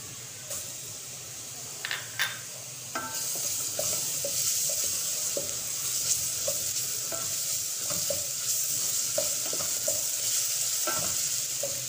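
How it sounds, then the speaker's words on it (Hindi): Garlic paste frying in desi ghee, stirred in a pan: a steady close sizzle with spitting crackles and a few louder pops near the start, continuous throughout with no talking. "अब हम इसमें शामिल करेंगे लहसुन का पेस्ट।"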